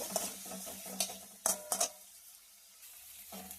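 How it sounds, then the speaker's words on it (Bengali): Spice paste and tomato are sautéed in a pan for a snakehead fish curry, with a quiet sizzle under scraping stirs and a few sharp clinks of a utensil against the pan, and no voices. "মশলাটা দিয়ে দিলাম, একটা টমেটো দিলাম, এবার ভালোভাবে কষিয়ে নেব।"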